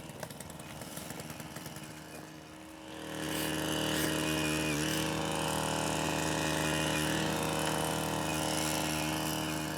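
A special drill bores into hard, metal-rich, stone-like ground, starting with a rattling idle and then ramping up into a loud, steady mechanical whine and grind that holds close and constant.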